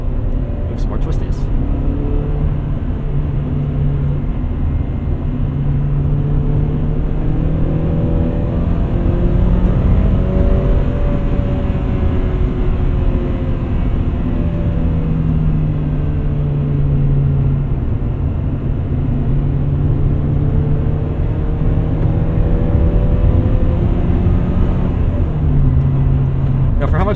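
A 2000 Honda Prelude driving on twisty roads, its engine note rising and falling with shifting pitch as it accelerates through bends, a constant cabin rumble beneath, with a person talking over it.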